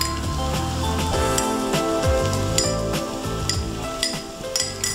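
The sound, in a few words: paneer added to frying vegetables in pan, sizzling and stirring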